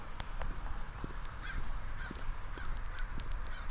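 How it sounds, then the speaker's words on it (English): A flying crow caws repeatedly in short, evenly spaced calls at moderate distance, fairly faint over a constant low outdoor rumble and wind-like hiss. "a flying crow"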